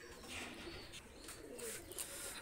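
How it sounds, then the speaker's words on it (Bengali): A pair of Kamagar pigeons coo softly at close range, a short, quiet run of low throaty calls. "এই এক পেয়ার কামাগার কবুতর নিয়ে আসলাম"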